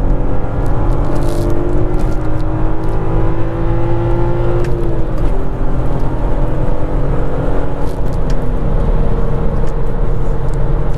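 A Volkswagen Mk4 R32 engine hums steadily at cruising speed on a freeway with road and wind noise, the pitch shifting slightly as it holds a constant drone.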